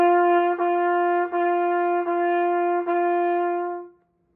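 Trumpet playing one sustained pitch split into about five evenly tongued notes, clear and loud, with a brief dip at each articulation before the final note fades out.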